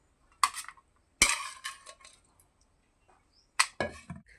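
Metal utensils clink and scrape in a kitchen as Kolhapuri mutton soup is ladled into a pot and the meat is set on a plate. Short, bright clatters come in a few scattered bursts with quiet gaps between them.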